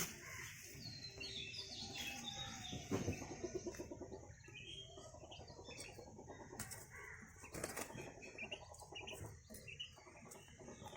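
Caged quails in a bird enclosure flapping and thrashing their wings in repeated bursts, with chirps and calls from birds nearby, no voices.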